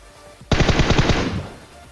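A Tommy gun in a shooting video game fires a rapid burst of about eight punchy shots close up, the burst stopping abruptly after roughly a second.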